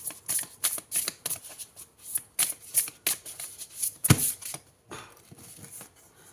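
Tarot cards are handled and shuffled in repeated crisp riffling bursts, close up, with irregular pauses between the flurries and no voice.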